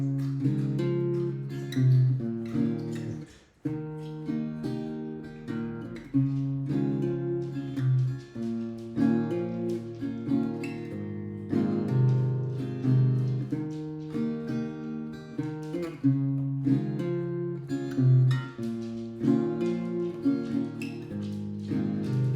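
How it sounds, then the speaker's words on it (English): Acoustic guitar played slowly through a chord progression, picking bass notes and strumming the rest of each chord in a steady, close, continuous rhythm with no voices. "It's a lot of picking the bass note and then strumming the rest of the chord."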